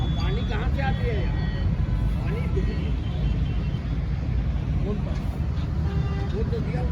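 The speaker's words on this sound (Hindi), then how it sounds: "दिल्ली मथुरा हाईवे के ऊपर पूरी ट्रैफिक की मूवमेंट चालू" Steady traffic moving along the Delhi–Mathura highway near a construction site with a crane, a continuous low roar of road vehicles at a distance, with voices talking over it.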